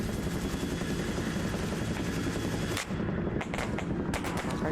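Gunfire in the video game Arma Reforger, a dense, continuous roar of rapid automatic shots with brief gaps, loud and close throughout.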